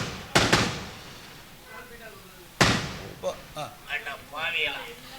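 Firecrackers set off at a temple festival drama performance, two sharp, loud close bangs about two seconds apart, each with a short crackling tail, followed by scattered voices and smaller pops.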